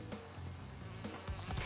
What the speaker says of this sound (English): there's two bees! Multiple bees!